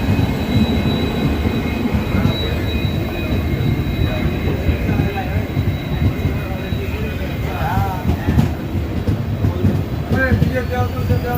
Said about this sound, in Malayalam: ഇതാ ഇവിടത്തേക്കൊരു ലോക്കോമോട്ടീവ് വന്ന്.